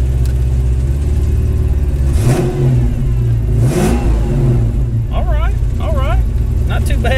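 A Ford Mustang 5.0 GT engine idles steadily while warming up, a constant low rumble with a brief rise in revs, heard up close under ongoing background sound with chirping noises near the end.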